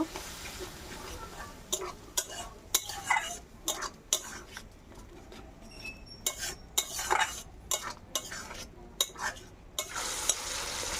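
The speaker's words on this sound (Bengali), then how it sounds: "একটু নাড়াচাড়া করে নেব।" Spices for a lote fish curry are stirred in an oily pan, with repeated close scrapes and clinks of a utensil against the metal over a soft background sizzle, lasting throughout without talk.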